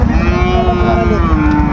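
A Sahiwal bull moos in a long, steady, low call, close and loud, with no talking.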